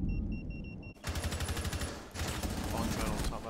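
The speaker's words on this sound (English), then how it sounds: "Dude, I shot at him." Automatic gunfire rattles loud and close in Rainbow Six Siege ranked play, with two dense bursts of rapid shots after a quieter opening. A second burst follows a brief pause.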